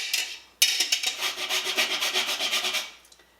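A whole nutmeg grated for sweet cider apple butter, a short burst of rapid rasping strokes up close after a brief first scrape, then fading out.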